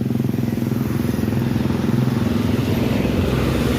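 An intercity bus, a Padang-to-Jakarta tronton coach leaving Solo's new terminal for Jabodetabek, rumbles past nearby with a loud, steady engine drone and road clatter.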